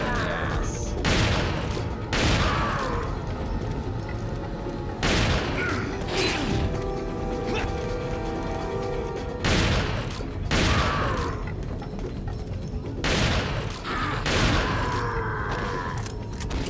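Shotgun blasts ring out in Resident Evil 4 (2005), a handful of loud, sharp booms spaced a few seconds apart, each with a quick decaying tail over a steady game-music and ambience bed.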